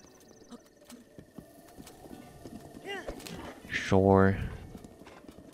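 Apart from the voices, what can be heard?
horse hooves clip-clopping, from the video game Breath of the Wild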